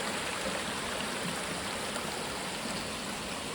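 Steady rushing water flows fast and close, a dense continuous roar of a mountain stream near the source of the Nira River in dense Sahyadri forest, with no voices.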